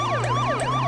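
A video game police car wails its siren in looping up-and-down sweeps, loud and near, over a low humming engine tone, with no talking.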